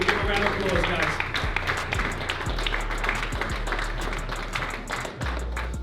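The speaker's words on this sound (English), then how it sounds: "Give a round of applause, guys." An audience at a PFL MMA fight-week event in Dublin applauds with dense, steady clapping, while talk continues throughout.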